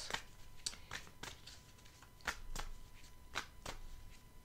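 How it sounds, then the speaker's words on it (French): Tarot cards are shuffled and slip loose onto a surface, making about ten soft, sharp flicks and slaps at irregular intervals. The sound is close but faint over low background hiss. "J'aime bien quand elles tombent, mes cartes."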